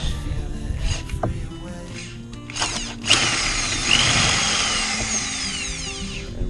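A power drill whines and grinds in short bursts, then a sustained high-pitched drilling screech into metal, fairly close.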